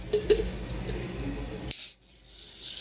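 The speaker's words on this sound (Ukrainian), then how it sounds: "Беремо нашу першу банку, дуже добре стряхуємо і відкриваємо." A tin can of Fanta rattles as it is shaken, then gives a sharp tab click and pop, followed by a soft fizzing hiss.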